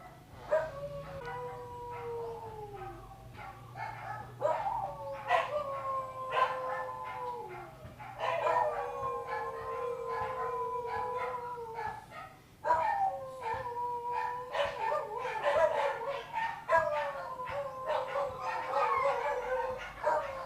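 Several dogs at once, about seven near and next door, howl in long wavering tones with barks and yips mixed in, loud and continuous throughout.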